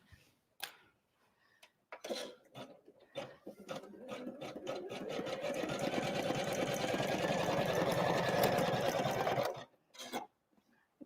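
An embroidery machine sews a blanket stitch on a Christmas card. A few short stitch bursts come first, then a long run of quick, even mechanical ticking and whirring stops abruptly near the end.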